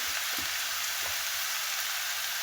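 Cabbage with potato, eggplant, beans and peas frying in mustard oil in a pan, a steady, close hiss of sizzling oil running throughout with faint clinks from stirring.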